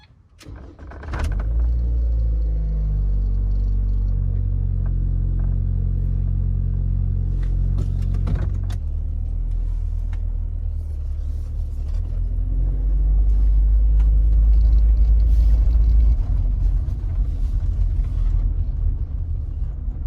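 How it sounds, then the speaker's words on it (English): Car engine cranking and catching, then settling into a loud, steady low idle rumble that swells slightly later on, heard close up without voices. "Time to start the car."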